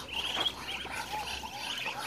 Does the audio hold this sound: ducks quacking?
yes